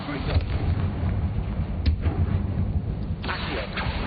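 Confringo spell blasts in Hogwarts Legacy thump and boom repeatedly, heavy and close, amid dense combat noise with speech underneath.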